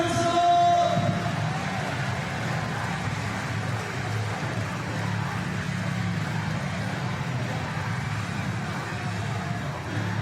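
A crowd at an indoor bouldering climbing competition making a loud, sustained roar of cheering and noise that holds steady throughout, dense and fairly close.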